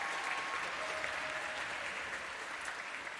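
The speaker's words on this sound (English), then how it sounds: "give yourselves a round of applause." A concert hall audience at an honors concert applauds steadily, a dense, continuous wash of many hands clapping that holds at an even level throughout, with no voices standing out.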